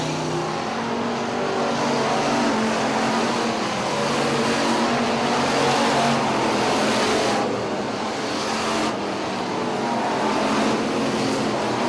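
Hobby stock race cars roaring around an oval track in a close three-wide battle, a loud continuous engine drone with swelling passes and revving surges, heard steadily from near the track.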